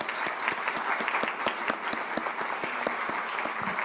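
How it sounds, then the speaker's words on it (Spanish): Audience applause at a university lecture session on education, culture and society, a steady wash of many hands clapping with a few sharper individual claps standing out, moderately loud and sustained. "así que también un aplauso para ellas."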